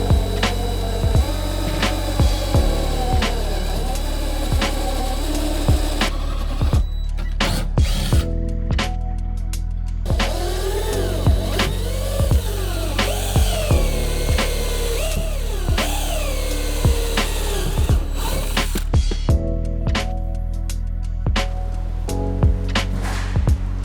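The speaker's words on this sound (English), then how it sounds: "So we'll go ahead and drill our hole to 5/8 of an inch" A power drill with a step bit whines in repeated bursts, biting into the metal bed of a Toyota Tundra pickup with sharp grinding pulses, close and loud, with short pauses between runs.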